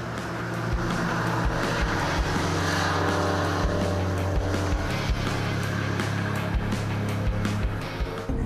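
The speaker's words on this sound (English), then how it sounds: "And we're off. In a Vantage N430." An Aston Martin Vantage N430 sports car drives along with its engine humming steadily and the cabin droning, the tone shifting slightly as it pulls away.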